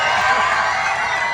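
A crowd at a trans beauty pageant cheers and shouts steadily in a dense, continuous wash of voices, sustained for the short moment without a break.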